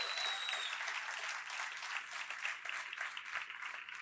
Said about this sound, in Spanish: Alguien tiene que aplaudir su gloria.